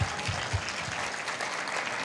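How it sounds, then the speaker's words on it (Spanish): Church congregation applauding first-time visitors: a short, dense wash of clapping from many hands, steady and fairly even throughout. "Démosle un fuerte aplauso a los invitados"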